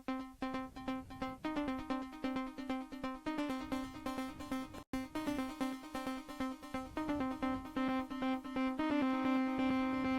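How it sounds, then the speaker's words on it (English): A Korg Volca Keys synthesizer plays a looping sequenced pattern of pulsing, plucky notes over a steady held tone, rhythmic and fairly quiet, with one brief dropout midway. "So I have a pattern in the Volca keys which sounds like this."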